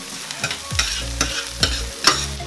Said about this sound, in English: Mozzarella in, mix that around.